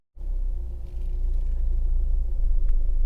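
A Honda Civic 1.6 i-DTEC SE Plus diesel engine idles steadily with a low, continuous rumble that holds even and close throughout.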